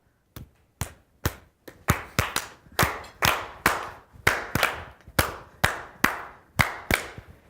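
Hand claps beating out a syncopated clave rhythm as used in salsa, repeating a pattern of sharp, close claps with no talking.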